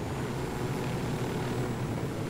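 Helicopter support flying in during a Ghost Recon Wildlands game session: a steady, continuous rotor and engine drone, fairly quiet and unchanging throughout, with no talk over it.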